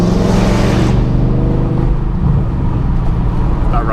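Twin-turbo LS-powered Nova cruising under power, a loud, close, deep engine drone with harmonic rumble that eases slightly after the first second, then holds steady.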